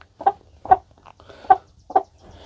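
A broody hen clucks four times in low, evenly spaced single clucks, close by in a quiet setting, with nothing else heard.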